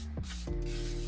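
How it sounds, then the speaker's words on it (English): A steady aerosol hiss from a can of finishing spray coating laser-cut fabric and wood earrings, close and continuous with a short break partway through. "I'm going to spray so this doesn't come up"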